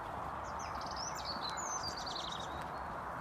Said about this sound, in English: Go into a whole new cacophony of birds now.